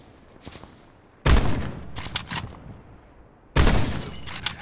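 Gunfire in Call of Duty Black Ops Blackout: two loud, sharp close-range volleys of rapid shots separated by a short pause, with quieter scattered shots between them and near silence before the first burst.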